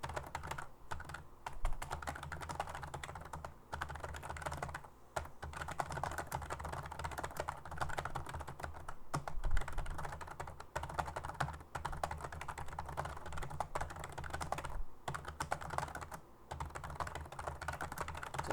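Steady, fairly quiet typing on a computer keyboard, a dense run of light key clicks with brief pauses, no talking.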